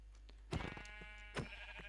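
Two short sheep bleats from Minecraft 1.21.4, one near the start and another about a second later, over a low steady background hum.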